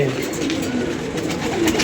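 Pigeons at a loft cooing in soft repeated low coos, close by and continuous, while someone talks over them.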